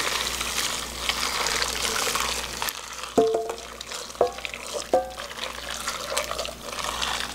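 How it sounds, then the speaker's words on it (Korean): Boiling fish sauce and fruit extract poured from a pot over underripe Korean melons to make pickles: a steady liquid pour with a few sharp clinks and splashes, close by, with no talking. "이제 이걸 끓는 거를 제가 부어줄게요."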